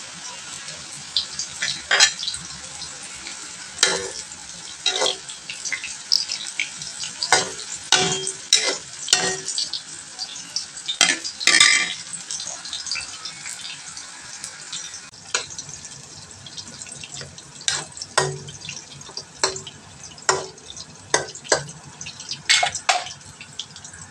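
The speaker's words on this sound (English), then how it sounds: "Then add the tempeh which has been cut into pieces. Fry over medium heat." Pieces of tempeh frying in cooking oil over medium heat, with a continuous crackling sizzle and frequent sharp pops and spatters throughout.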